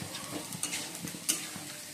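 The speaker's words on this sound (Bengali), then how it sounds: "আর এই তিনটে ডিম তোমার ভাজবো মামলেট করে" Three duck eggs fry as an omelette in a pan, giving a steady soft sizzle with light stirring scrapes and a couple of sharper spoon clicks, close and even throughout.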